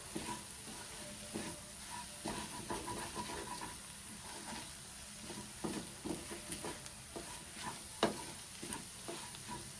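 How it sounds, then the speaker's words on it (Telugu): Tomato pieces added to a colocasia leaf and lentil curry frying in a pan, with a soft continuous sizzle and occasional stirring taps, quiet and close with no talking. "ఇప్పుడు ఇందులో టమాటా ముక్కలు వేసేసుకోవాలి"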